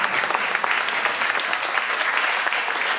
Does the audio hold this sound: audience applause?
yes